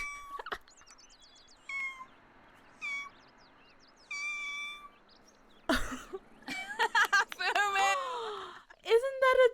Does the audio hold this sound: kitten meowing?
yes